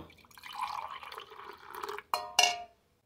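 Milk poured into a pan for making tea, a soft liquid stream running for about two seconds, then a couple of sharp clinks of a vessel against the metal pan, close and quiet.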